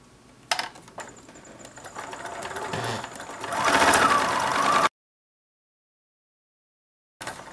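A sewing machine fitted with a 1/4 inch piecing foot stitches quilt fabric, a rapid mechanical whirring chatter that speeds up and grows louder before stopping abruptly, then briefly restarts.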